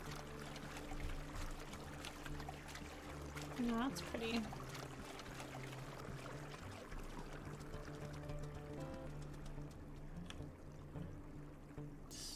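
A wolf wades across a river in WolfQuest, with soft continuous splashing and trickling water under a man's speech, while faint game sounds play in the background.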